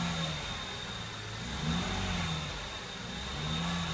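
A car engine revs and eases off through a DADC push-rock hand control throttle, a moderate mid-pitched drone swelling and settling in slow waves with a faint steady whine above, no voices.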